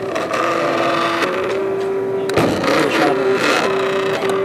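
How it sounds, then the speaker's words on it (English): A 3D printer running mid-print, giving a steady mechanical whir with sustained stepper-motor tones that shift pitch as the head moves, close and fairly loud, with a brief knock partway through. "And it's printing out you can see our..."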